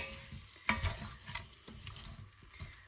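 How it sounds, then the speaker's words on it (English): Butter melting in a pan for a chicken casserole gives a soft, steady sizzle with a few stirring scrapes and knocks, close and fairly quiet, with no talking. "So that butter's melting down really nicely now."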